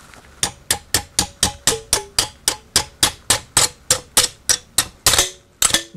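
A handle snaps scored metal pieces loose along their score lines while an alcohol stove is being made, producing a fast, even series of sharp metallic clicks and cracks, close and loud, with no talk.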